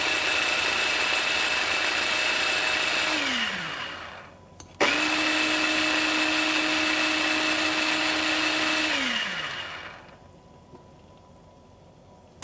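An electric blender whirls an asparagus balsamic dressing in two loud bursts, each a steady high whine that winds down as the motor slows, with a short clack between them and quiet afterward.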